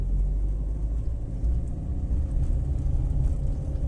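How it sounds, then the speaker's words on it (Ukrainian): Heavy highway traffic passing a crossroads, a continuous deep rumble of cars and trucks with no distinct individual vehicles standing out. "Це всі їдуть з Києва, чи те так зараз завантажена траса."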